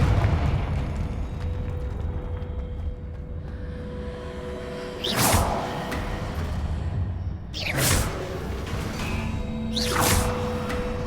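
Three sharp blasting-spell explosions from Hogwarts Legacy burst out near 5, 7.5 and 10 seconds, each a loud broadband crack over a steady droning game ambience.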